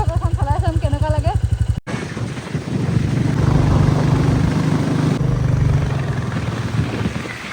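A motorcycle ride on the road toward Shillong and Dawki: after a brief voice at the start, a steady, loud engine drone and rushing wind noise carry through, with the engine note rising and holding close by.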